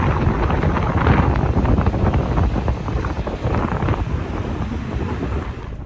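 Steady wind blows across an outdoor microphone, a loud continuous buffeting rumble with gusty surges, nearly unbroken for several seconds and with no voices.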